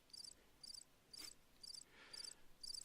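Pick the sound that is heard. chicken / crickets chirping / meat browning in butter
crickets chirping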